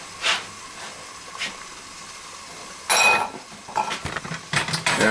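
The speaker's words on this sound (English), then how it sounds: "go to your hot pan that has some oil in it, and just toss those in." Handcut homemade noodles dropped into a hot oiled non-stick frying pan, with a few clinks of utensils and pan, then a sudden burst of sizzling hiss that crackles on and off.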